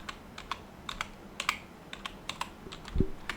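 Quick, light key clicks on a computer keyboard, a dozen or so taps in an uneven rhythm with one heavier thump near the end, close and fairly quiet, no talk.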